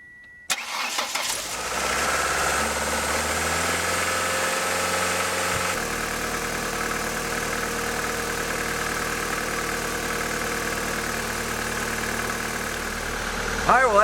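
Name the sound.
1999 Ford Escort engine starting and idling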